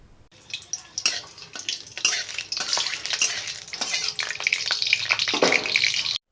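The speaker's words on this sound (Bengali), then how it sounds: "তেলটা গরম হয়ে আসলে সেই তেলের ওপর দিতে হবে একটা চেরা কাঁচা লঙ্কা এবং অল্প কিছু মৌরি এবং দুটো তেজপাতা" A slit green chili, a pinch of fennel seeds and two bay leaves go into hot oil, setting off a bright, crackling sizzle that swells and stays busy, with a few spoon clinks; no talk.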